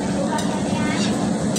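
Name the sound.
eggplant frying in oil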